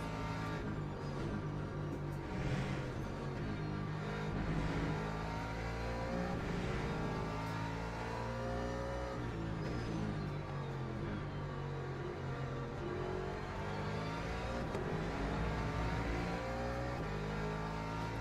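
Porsche race cars in the sim racing game Le Mans Ultimate roar steadily as they accelerate out of corners, engines revving up and shifting in a dense, continuous layered drone with no speech.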